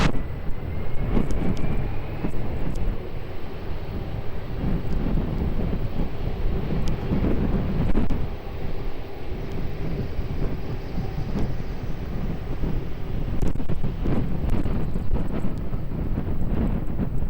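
An aircraft taking off at Lisbon Airport, a broad roaring jet rumble held steadily at a distance, mixed with gusty wind buffeting the microphone.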